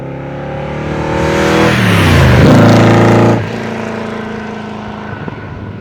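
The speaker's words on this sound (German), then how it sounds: "Was es hier nach vorne treibt, ist ein Chevrolet-Motor mit ca." A 1967 Bizzarrini 5300 GT race car with a Chevrolet V8 of about 400 hp roars past up close, rising to a loud growling peak then dropping to a steady rumble as it drives away.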